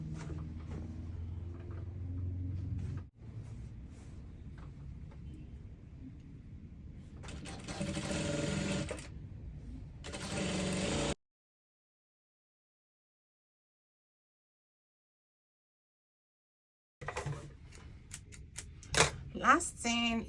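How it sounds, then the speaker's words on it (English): A sewing machine runs in steady bursts, stitching the side seam of an off-shoulder flare dress, with a quiet pause in the middle and a brief speaking voice at the start. "So next, you're going to just sew the side."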